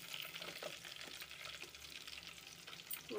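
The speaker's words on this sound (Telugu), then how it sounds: "ఇప్పుడు ఈ కూరగాయ ముక్కలన్నీ వేసేసుకుందాం" Chopped vegetables, beans, carrots, onion and green chillies fry in hot oil for veg biryani, giving a steady soft sizzle with occasional stirring scrapes, quiet and close, with no voices.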